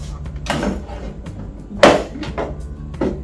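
The drawer of a 3B Medical Lumin CPAP cleaner is pulled open, a few close plastic thunks and slides with one sharper knock in the middle over a low background hum.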